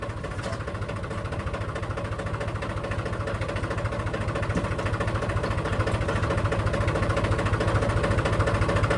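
A tractor engine runs at a steady idle, a continuous rapid low throb that grows slightly louder, with no voices over it.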